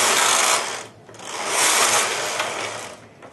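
A Brother 970 knitting machine's main carriage is pushed across the needle bed for two rows, giving a loud mechanical whirring and clacking sweep that pauses briefly between passes.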